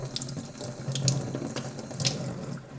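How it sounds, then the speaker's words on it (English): Eggs being washed under a steadily running kitchen tap, water splashing into a sink with small shifts in the stream as the eggs are turned by hand; close and fairly even. "the question is to wash or not to wash the eggs"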